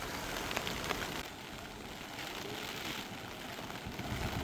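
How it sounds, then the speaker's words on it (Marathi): Heavy rain pouring down during flooding in Buldhana, a dense, even hiss of drops on surfaces, fairly faint and steady throughout with no voices. "रात्रीपासूनच कुठं संततधार तर कुठं मुसळधार पाऊस सुरू आहे"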